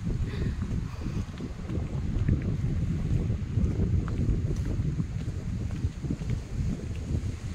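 Strong cold wind gusts across open ground at Bihu Lake Park in Taipei, Taiwan, a steady, low, buffeting rumble pressing on the microphone throughout without a break.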